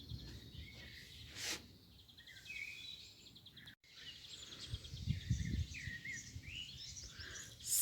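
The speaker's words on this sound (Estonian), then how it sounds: "Ma arvan, et te kuulete siin ka taustaks palju linnulaulu ja koerte haukumist ja traktorimüra." Birdsong in the countryside, with scattered chirps and calls over a low outdoor background of rumble and faint insect-like noise, and no speech.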